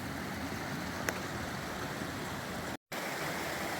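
Creek water flowing along a mountain trail in the Great Smoky Mountains, a steady broadband rush close by that continues unbroken apart from one brief dropout.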